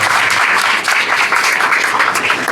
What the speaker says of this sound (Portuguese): pedi que levante para receber uma salva de palmas meu querido Márcio